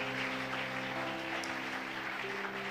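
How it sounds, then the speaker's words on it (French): A church congregation applauds at a Sunday worship service: a dense, even wash of clapping from many hands that lasts throughout, with sustained instrumental tones held underneath. "Nous acclamons Jésus"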